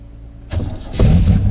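A 1984 TVR 4.0 V8 Wedge engine turns over and fires almost instantly in wet winter weather, a short crank followed by a deep, rumbling idle close by.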